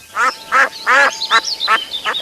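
A duck quacks six times in quick succession, loud and close, with short gaps between each harsh, nasal call.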